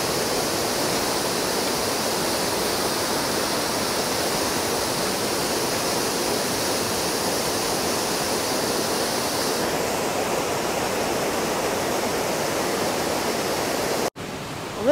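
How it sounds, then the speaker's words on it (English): A waterfall beside a rock on the Appalachian Trail near Springer Mountain, Georgia, roars as a steady, loud, broadband rush of falling water, continuous throughout with no talk, cut briefly near the end. "a rock by a waterfall on the Appalachian Trail"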